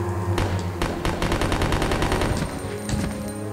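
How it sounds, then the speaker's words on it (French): Machine gun fire in the survival horror video game Resident Evil Code: Veronica X, loud rapid staccato bursts with short pauses between volleys over a few seconds. "Mais vous voyez, ce qui est chiant, c'est qu'il écarte les mitraillettes, des fois il tire d'un côté dans le vide."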